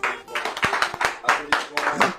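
Scattered, uneven hand claps from a small audience greet a Congolese singer during an interview event, about a dozen distinct claps with some voices mixed in.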